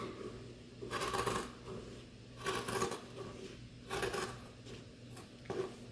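Scissors cut denim jeans into yarn strips, with several rough snipping and rasping cuts in separate bursts, each about half a second long, close and moderately loud, with no talking.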